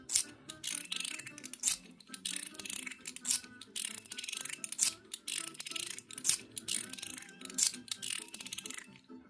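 A titanium three-level mechanical slider fidget with nylon balls clicks and slides in quick, irregular bursts of sharp metallic ticks and snaps, close up and fairly quiet.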